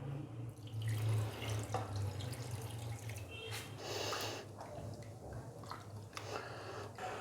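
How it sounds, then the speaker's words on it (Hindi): Water pours and splashes over raw chicken liver (kaleji) being washed in a bowl, a continuous close running and sloshing sound with drips and wet squishing, no talk. "तो अभी मैं इसके अंदर थोड़ा सा पानी डालूँगा"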